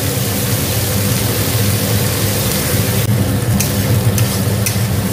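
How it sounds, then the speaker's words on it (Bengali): Onions frying in a pan with a little salt, cooked to a medium brown: a steady, loud sizzle that hisses continuously from start to finish, with faint stirring scrapes near the end and no voices. "পেঁয়াজ এরকম মিডিয়াম ভাজবো, যে ব্রাউন হয়ে যাবে"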